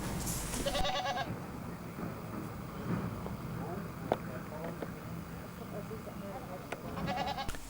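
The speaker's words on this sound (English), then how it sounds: "Goats were grazing on the ruined temple, minded by their herders." Goats grazing among ruined temple stones give a few bleats, faint and somewhat distant, scattered over a quiet outdoor background with someone talking over it.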